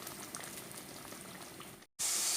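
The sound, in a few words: tomato gravy boiling in pan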